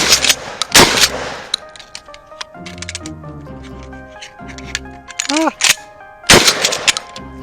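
A 12 gauge pump shotgun, a Mossberg 500 or KelTec KSG, is fired from the ground. Two loud, sharp blasts ring out, one near the start and one near the end, with clattering handling noises between them.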